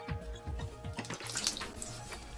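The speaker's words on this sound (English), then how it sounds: "He scrapes it on soft stones which are lubricated with water" Samurai sword blade drawn across soft water-lubricated sharpening stones, giving repeated wet scraping strokes with watery splashing, close and fairly steady throughout.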